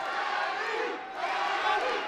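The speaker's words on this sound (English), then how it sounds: "Crowd getting behind Lopez." A crowd at a professional boxing match in Colorado, Manny Lopez versus Cesar Holguin, roars and cheers for a fighter in a sustained, fairly distant wash of voices that dips briefly midway before swelling again.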